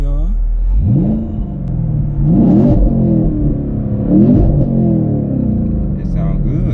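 Chevrolet Camaro SS in sport mode revs its engine in three rising and falling pulls, loud and close, with a deep rumbling idle between, and a voice speaks briefly over it.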